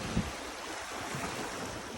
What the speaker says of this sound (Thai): มีคลื่นกระซบฝั่งด้าน ทะเลนะครับ